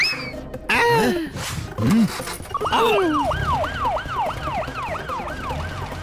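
In a cartoon, Panda sir's car siren wails in rising and falling sweeps that repeat rapidly and steadily for several seconds. Before it, cartoon voices and comic sound effects play.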